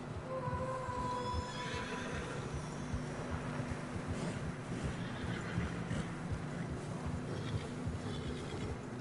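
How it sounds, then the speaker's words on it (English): In the video game Red Dead Redemption II, horses whinny and snort over a steady, dense clatter of hooves and trotting movement through fresh snow, close and continuous throughout. "Horses are getting tired."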